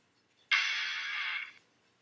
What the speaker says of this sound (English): If you unlock it, it makes a sound like this.